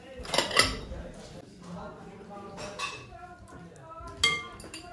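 Ceramic bowls and dishes clink against each other as a bowl is passed across a home table, with a few sharp chinks scattered among quieter clatter and people talking nearby.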